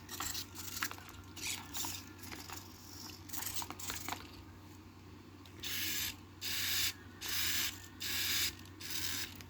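Small servos of a RoboPhilo Junior humanoid robot whir in short repeated bursts as it walks forward and back, close and quiet, with the later bursts coming in a steady rhythm.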